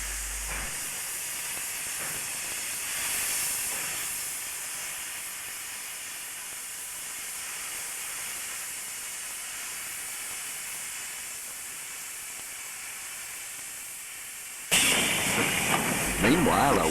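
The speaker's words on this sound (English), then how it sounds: "a well-turned-out 5910 prepares to leave Goulburn's North Yard with an unusually heavy mixed" Steam locomotive 5910 hisses steadily in Goulburn's North Yard before leaving with a heavy mixed train, a continuous broad hiss that swells into a louder, harsher burst near the end.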